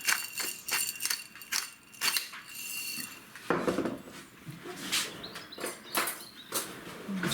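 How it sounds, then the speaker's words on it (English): Seasoned chicken breast is mixed in a dish, heard as close, irregular scraping and clinking of a utensil against the dish in short bursts, with quieter gaps between strokes. "I'll just mix that up a little bit."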